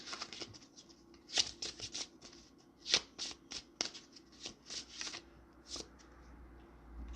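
Tarot cards are shuffled and pulled, giving quick papery riffles and flicks in irregular bursts, close and crisp, with a few louder snaps among softer card slides and no talking.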